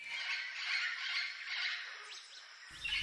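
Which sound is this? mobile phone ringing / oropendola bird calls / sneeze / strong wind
oropendola bird calls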